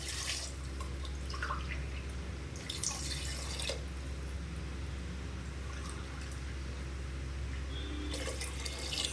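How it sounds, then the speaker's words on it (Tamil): Water pours into rice in a pot for vegetable biryani, with faint trickling and dripping over a constant low hum and occasional splashes. "தண்ணீர் ஊற்ற வேண்டும்."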